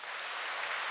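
An audience at an open-air concert at Harbiye claps steadily, a dense, even wash of applause with no breaks and no talk.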